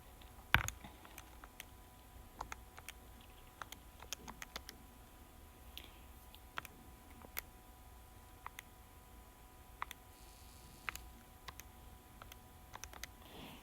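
Calculator keys being typed, a series of quiet, irregular clicks spread across a faint, near-silent background.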